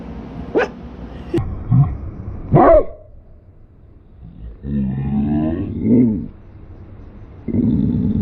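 A female dog barks and growls close by in a garage setting, with several sharp separate barks followed by a longer low growling stretch and one more bark.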